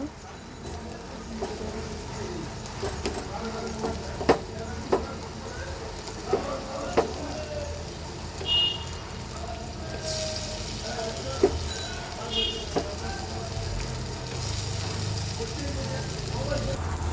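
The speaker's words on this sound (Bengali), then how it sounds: "পেঁয়াজটাকে সুন্দর করে আগে ভেজে তুলি" Onions fry in a pan for a prawn dopiaza, giving a steady, moderate sizzle with a few sharp utensil clicks and taps scattered through it.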